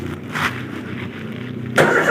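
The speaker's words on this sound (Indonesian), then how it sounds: "Lalu sekarang tahap terakhir adalah mencoba mesinnya." Car with an EFI engine, just after a tune-up, starts: a short run of quieter cranking, then the engine catches with a sudden louder burst and settles into running.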